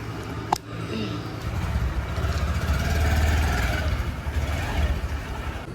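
A motorbike engine drones steadily at mid volume while riding on a hot day, with a brief click near the start and no speech.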